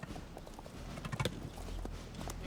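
A horse's hooves clip-clop at a steady walking pace, close and clear over a low background rumble.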